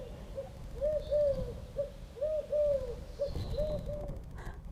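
An owl hoots in a steady series of soft, mid-pitched calls with short gaps between them, heard alone against a quiet, faintly noisy background.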